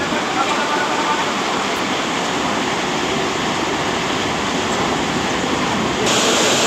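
Water pours strongly into a boat lock chamber, a loud, constant rushing roar heard close by, steady throughout and swelling slightly louder near the end.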